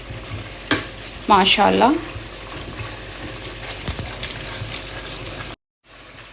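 Chicken sizzles and fries in a karahi, a steady crackle with a louder stirring burst near the start, and a voice speaks briefly over the cooking.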